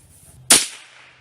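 A single sharp gunshot on a bird hunt, close and loud, snapping out of near silence and trailing off into a quick, fading echo.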